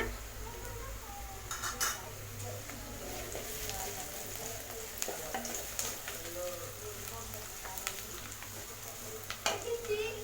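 Onions and asafoetida sauté over a medium flame in a pan for a black chickpea curry, with a steady low sizzle and scattered light clinks and scrapes of a spoon, fairly quiet throughout.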